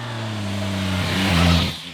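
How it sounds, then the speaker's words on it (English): The triple-cylinder engine of a 2021 Yamaha MT-09 SP motorcycle revs up from a smooth idle-like tone, rising in pitch and loudness before dropping back, close and clear with no talk. "This triple engine will always sound good in my opinion."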